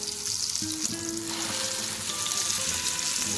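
Shami kebabs fry in an oiled pan with a steady, close sizzle and crackle, no voices over it.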